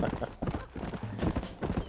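Horse hooves clip-clop at a steady trot in the Western video game Red Dead Redemption, close and rhythmic beneath a voice talking over them.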